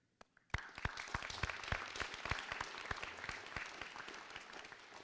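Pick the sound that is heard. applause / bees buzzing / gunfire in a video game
applause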